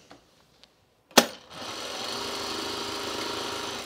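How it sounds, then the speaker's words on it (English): A sewing machine stitches a jacket sleeve after a sharp clack, settling into a fast, steady mechanical whir close by. "We're speed sewing now."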